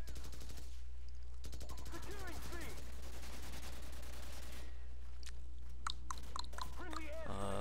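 M4 Carbine fire in Call of Duty 4 Domination on the Strike map: rapid automatic bursts over a steady low hum, with short pauses between strings of shots.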